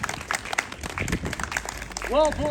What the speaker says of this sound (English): a big round of applause to our winners